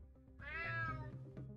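A cat meows in the video game UnMetal, a single drawn-out, clear meow heard close over a low background hum.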